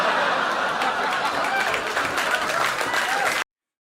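Crowd applause fills the clip, dense and steady clapping with a bit of laughter mixed in, cutting off abruptly before the end.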